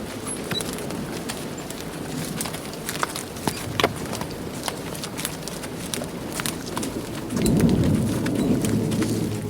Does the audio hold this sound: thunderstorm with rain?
yes